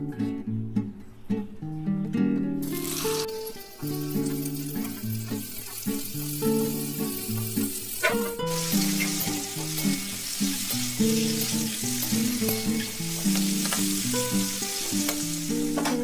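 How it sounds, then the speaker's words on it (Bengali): Pieces of pointed gourd frying in oil, giving a steady broad sizzle that swells after a few seconds and again midway, heard under continuous background music. "দেখুন, তেল দিয়ে দিলাম, পটলগুলোকে ভালোভাবে ভেজে নেব।"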